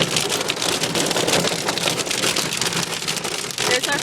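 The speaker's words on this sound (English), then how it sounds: "We just gotta wait for the hail to be done." Hail storm hammering a car, a dense, continuous loud patter of ice striking the roof and windshield from up close, steady throughout with no speech.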